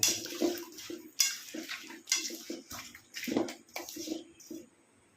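Chicken worked together with spices and oil by hand in a cooking pot makes wet squelching and mixing sounds in uneven strokes, with light clinks against the pot, fairly close and quiet.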